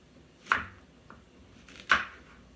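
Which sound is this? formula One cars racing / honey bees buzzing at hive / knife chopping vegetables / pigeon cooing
knife chopping vegetables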